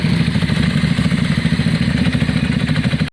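A Yamaha Virago motorcycle engine idles steadily while warming up after a front carburetor clean, a close, loud, lumpy low throb with mechanical clatter running unbroken for about three seconds.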